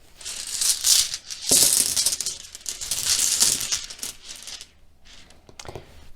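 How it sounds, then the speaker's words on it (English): Small rune stones clatter and rattle as they are drawn from a bag, a close, busy jumble of hard clicks and knocks that swells and fades in bursts with no voices. "I'm actually going to draw a couple of runes for each of these piles."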